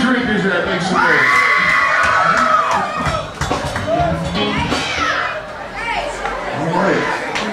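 A lively bar audience at a mic club event cheers and shouts in a loud, dense wash of voices, with excited whoops and chatter rising and falling throughout.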